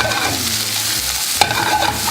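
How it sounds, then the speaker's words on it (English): Cooked crawfish tails sizzle and get stirred in a hot pan, a steady close frying hiss with scraping stir strokes and one sharp clink partway through. "we're going to throw these crawfish tails in there"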